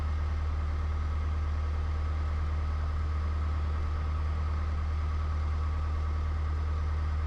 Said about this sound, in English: I think the engine's kind of getting there to the point of being warm